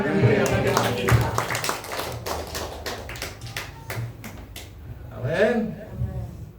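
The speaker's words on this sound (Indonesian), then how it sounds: "Beri tepuk tangan yang meriah bagi kita." A church congregation at a worship and prayer night claps during a service, with scattered claps and taps under a speaker's voice and background sounds that rise and fall.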